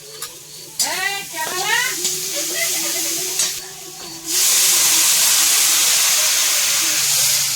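Spices fry in a pan for a fish and pumpkin curry, first with stirring and faint voices, then a loud, continuous close sizzle that swells and holds steady.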